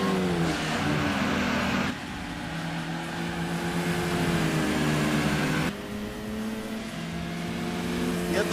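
A Mitsubishi Lancer Evolution racing engine in the Gran Turismo 2 video game revs loud and close, its pitch climbing through gears with two sharp drops at shifts, and no talk over it.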